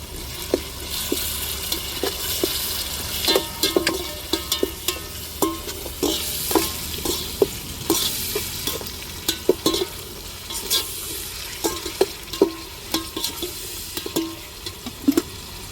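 Ginger-garlic paste sautéing in a pan with yogurt stirred in, a spatula tapping and scraping in frequent bursts over a continuous low sizzle, near and clear, with nobody talking.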